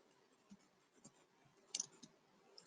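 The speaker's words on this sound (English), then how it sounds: "I'm clicking on OK here" Computer mouse clicks at a desk during a software tutorial: several soft, faint isolated clicks spaced irregularly, with one sharper double click near the end, over quiet background hiss.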